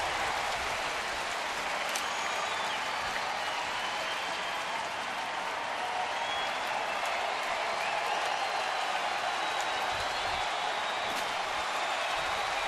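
A baseball stadium crowd of more than 26,000 roars and cheers in a steady, dense wash of noise that carries on unbroken, with no voices standing out.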